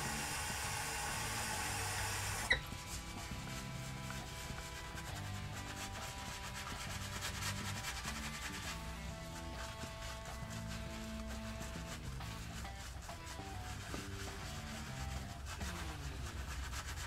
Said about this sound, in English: Rub it on the face, then build the lather.